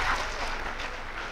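A church congregation at an Indonesian Christian sermon breaks into a burst of hand clapping that fills the room evenly at moderate volume.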